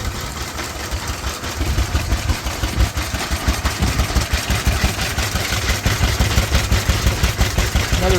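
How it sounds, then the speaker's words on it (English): A Southern Cross stationary engine driving a small centrifugal pump at a vintage engine restoration club show in Pimpama, Queensland, Australia, chugging with a steady, rhythmic beat, close and fairly loud, with no talking. "looks like another Southern Cross running a pump"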